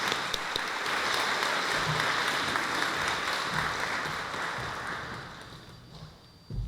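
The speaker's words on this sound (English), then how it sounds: "I don't normally get a round of applause." Sustained applause from an audience at a university baccalaureate service welcoming a Methodist reverend, a steady dense wash of clapping that fades toward the end.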